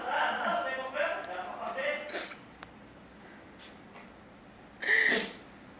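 A sneeze bursts out sharply near the end, brief and close, following a stretch of quiet chatter and soft indoor sounds.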